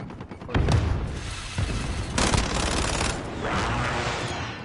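Gunfire in a Call of Duty Warzone match: rapid bursts of automatic shots with loud booming impacts, several distinct bursts spread across a few seconds.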